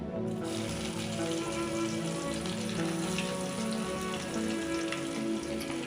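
Onions sizzling as they fry in hot oil in a pan while a capsicum curry is cooked, a steady, dense crackle and hiss running throughout at close range with no talk.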